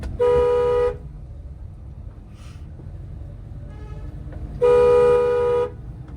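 Two loud, steady car horn blasts, each about a second long, separated by a pause filled with low traffic rumble.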